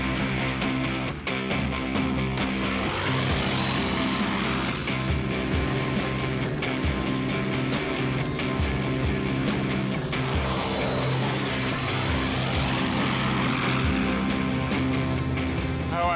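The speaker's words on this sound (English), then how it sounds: "Now the takeoff. Throttle right forward. Stick central. Ease her off the ground." A Spitfire aircraft's engine runs at full throttle for takeoff, a loud sustained drone with rising and falling pitch sweeps and a rough, throbbing texture that continues throughout.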